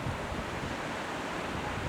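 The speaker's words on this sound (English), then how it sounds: "Overhead waves that break into ankle-deep water." Overhead surf waves break into ankle-deep water, a dense, steady wash of churning foam and spray with wind rush, loud and close throughout with no voices.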